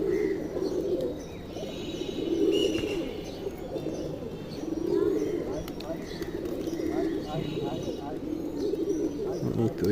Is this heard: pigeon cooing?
yes